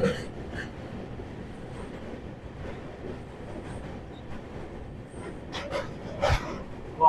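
A Kolkata–Sairang Express train crosses a bridge over the Ganges (Bhagirathi), heard from inside the carriage as a steady, moderately loud rumble with occasional sharper clanks and rattles near the end.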